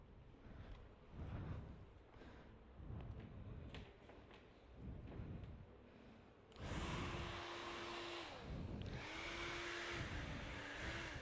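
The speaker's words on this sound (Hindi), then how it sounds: "अब हम करेंगे ड्रायर।" A hair dryer blows steadily on damp hair during an at-home Italian layer haircut, switching on partway through with a loud continuous whoosh, its pitch dipping briefly as the airflow shifts, after quieter rustling and handling sounds.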